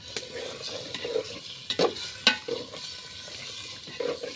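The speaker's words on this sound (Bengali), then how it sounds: "এখন মাংসটা দিয়ে দিতে ভালোভাবে নাড়াচাড়া দিয়ে কিছুক্ষণ কষিয়ে নিবে।" Duck meat being stirred and fried in a pan on a rainy day, with a steady soft sizzle broken by several sharp spoon scrapes and clinks against the pan, close and fairly quiet with no talking.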